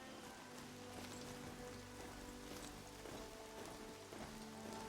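Steady rain falls in Horizon Zero Dawn, a dense, even hiss of drops on surfaces with a low hum beneath, continuous and unbroken throughout.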